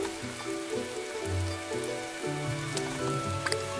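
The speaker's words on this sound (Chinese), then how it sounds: "偌大的雨点拍打在复活草上，会将枝条上的种子击落在地上。" Heavy raindrops drum steadily on a desert resurrection plant, a dense continuous patter heard alongside soft sustained music.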